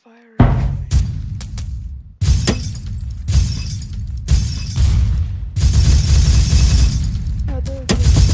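Loud Roblox video game gunfire in long bursts, up close, with harsh crackling volleys separated by brief gaps and a few short pauses.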